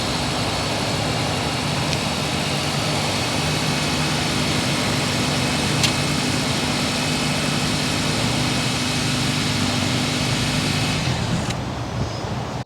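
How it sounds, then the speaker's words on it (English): A 2023 Honda CR-V Hybrid runs with its engine going, giving a steady low exhaust drone and hum that holds evenly throughout with no talking. "we'll start it so you can hear the exhaust"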